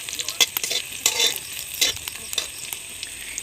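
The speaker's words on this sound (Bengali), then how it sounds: "এতে একটু ভালো করে ভেজে নেব পেঁয়াজ এবং কাঁচা লঙ্কাকে" Onions and green chillies frying in mustard oil, a steady close sizzle broken by short bursts of crackle and stirring scrapes.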